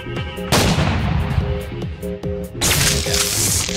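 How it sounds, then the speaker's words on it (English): Video game gunfire in Roblox, loud rapid bursts of shots crackling one after another close up, with a sharper volley near the end and no talking. "I think I'm going to be shooting my enemy"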